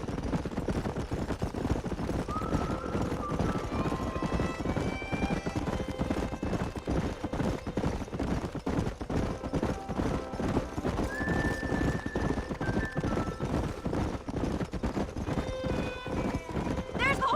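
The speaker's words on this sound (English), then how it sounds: "There's the horses!" Rapid hooves clatter in a steady gallop while horses neigh now and then in the video game Red Dead Redemption, with music and distant game sound effects layered in the background.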